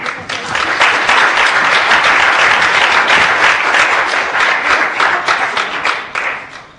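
Sustained audience applause at a French evening lecture, dense and loud from start to finish, fading slightly in the final second.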